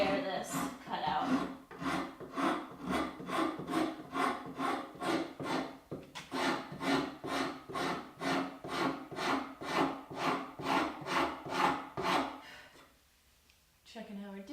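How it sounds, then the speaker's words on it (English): A wood rasp shaping and fairing a cutout in a curly maple guitar body, repeated rhythmic rasping strokes about twice a second, close and loud, pausing near the end. "I'm just going to kind of work with this tightest portion of my rasp to come in and fair this cutout."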